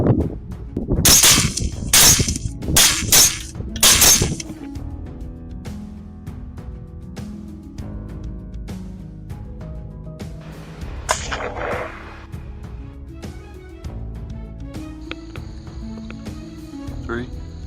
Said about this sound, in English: A volley of shots erupted simultaneously, and the herd was subdued in an instant.